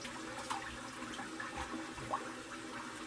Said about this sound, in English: Let me rinse this alum off and we'll find my aftershave.